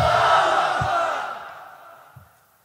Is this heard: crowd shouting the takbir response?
yes